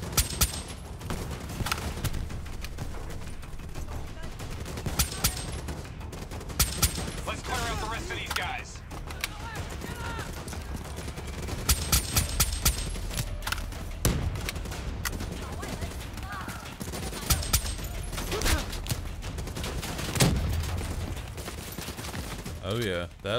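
Gunfire in the Black Ops 3 campaign, with bursts of automatic fire and single shots crackling throughout alongside mechanical clanks and battle noise, mixed with someone talking.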